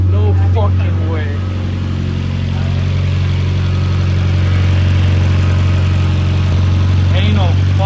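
A Mitsubishi Evo X engine idles after an exhaust manifold install, a loud steady low rumble throughout, with excited voices talking over it near the start and end.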